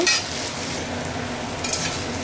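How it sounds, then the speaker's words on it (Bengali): Onion, green chili and whole cumin frying in oil in a kadai for a light egg curry, a dense close sizzle that holds steady for the whole stretch, with a brief stirring scrape at the start. "গোটা জিরে দিয়ে দিয়েছি। দিয়ে এটাকে একটু ভাজতে দিয়ে দিলাম।"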